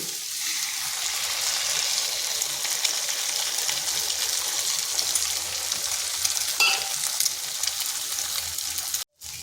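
Three eggs scramble and fry in a pan among potol (pointed gourd) for dim potol, a loud steady sizzle with stirring scrapes that runs unbroken and then cuts off for a moment near the end.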